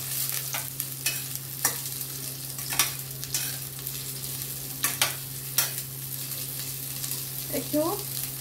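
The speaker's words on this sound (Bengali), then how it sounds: "পটলগুলো ভেজে না নিলে ভালো লাগে না খেতে।" Pointed gourd and potato pieces fry in a pan, a steady sizzle with a low hum underneath and occasional scraping stirs, close by, with a brief voice near the end.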